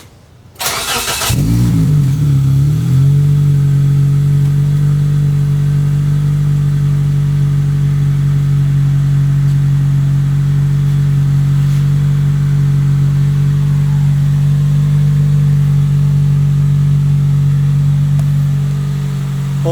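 A Toyota Matrix XRS with a GReddy DT exhaust cranks and fires up, then settles into a loud, steady idle with a deep, even drone from close by, holding on with no other sounds.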